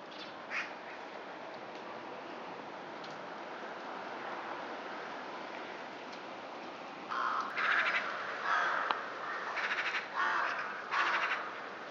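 Outdoor birds gather to eat dried peas scattered for them, giving repeated harsh caws and quack-like calls in bursts over a steady wash of background noise, fairly close and loud in the latter part.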